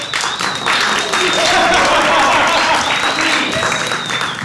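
A crowd applauds with dense clapping that swells and holds for a few seconds, with voices mixed faintly underneath.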